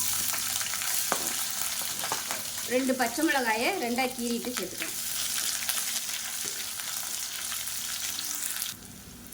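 Chopped large onions sizzle steadily in a hot pan with occasional stirring scrapes, while a person speaks briefly over the frying.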